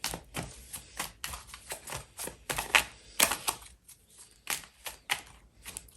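Tarot cards being handled and riffled in a series of quick, crisp flicks and taps, close up and loud against a quiet background, with no talking.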